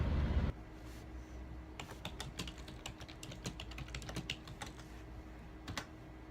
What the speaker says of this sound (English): Typing on the computer.